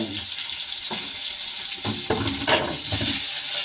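Sukuti, dried meat, being stirred while it fries in a pan, with a steady sizzle throughout and several scraping, clattering stirs breaking through near the middle and end.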